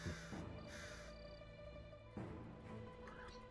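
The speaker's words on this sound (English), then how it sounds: "It's the sound of crows." Crows caw repeatedly in the video game Wandering Sword, harsh calls clustered in two bursts over a steady ambient game soundscape with tonal background music.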